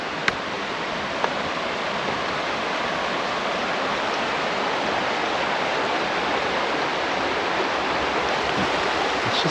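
A river flows beside a Smoky Mountains trail, a steady, full rushing of water that holds constant throughout, with a couple of faint clicks near the start and no voices.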